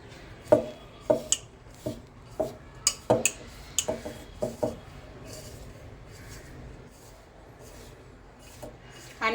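Gram flour batter with greens being mixed for Gujarati Kumbhaniya bhajiya, heard as a series of sharp spoon taps and scrapes against a bowl, irregular and close, then quieter stirring.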